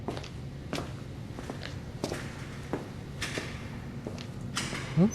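Knocking on a door in a horror video game set in a creepy apartment, a series of sharp, spaced thuds of moderate loudness with no talk over them.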